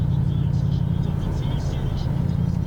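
A lowrider car rolls slowly along with a steady low engine hum and road rumble, heard from inside and continuous throughout.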